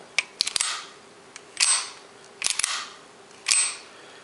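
Metallic clicks and sliding clacks of a Beretta M9 pistol's slide being pulled back and released, several sharp close bursts spaced about a second apart.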